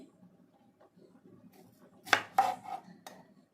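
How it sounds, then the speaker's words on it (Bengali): A knife chopping raw green tomatoes on a board, a few close, sharp knocks clustered together after a quiet stretch, with faint background rustle and no voices. "তো মুখগুলো ফেলে ভালো করে কুচি কুচি করে কেটে নেব"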